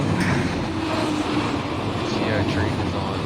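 Freight train in the Run8 Train Simulator game on the West Colton to LA route, a continuous broadband rumble and rattle of rail cars, with faint voices talking underneath.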